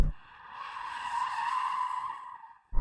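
An Audi RS6 attempting a drift lets out a sustained tire squeal lasting about two seconds. It swells and fades, then a sudden low rumble of engine or wind noise cuts in at the end.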